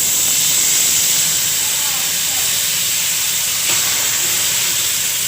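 Star margarine sizzles with crab in a hot pan, giving a steady, broad hiss throughout, with a faint clink partway through.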